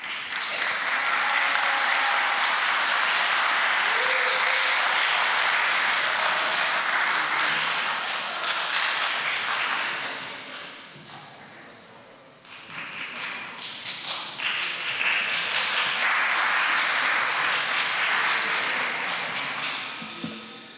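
A large audience at a forum claps loudly and continuously, a dense roar of hands that dips briefly before swelling again; faint speech surfaces during the lull.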